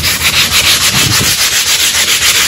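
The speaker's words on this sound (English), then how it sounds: "I thought I was going to sand it" Hand sanding on a boat hull's gel coat, a fast rhythmic scratchy rubbing repeated steadily and close up, with no voices.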